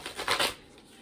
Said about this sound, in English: I will be shuffling like I normally shuffle a deck of cards